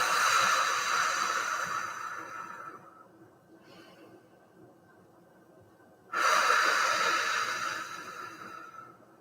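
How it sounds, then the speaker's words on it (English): Forceful fire-breath exercise: rapid, rhythmic exhalations pushed out through the mouth by contracting the abdomen, heard up close in two bursts separated by a quiet pause. "A couple more breaths."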